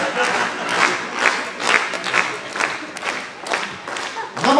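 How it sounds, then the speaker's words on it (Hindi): An audience at a Hindi poetry recital clapping in rhythmic unison, loud and close, with a few shouts mixed into the steady beat. "आप लोग तालियां बजाएं"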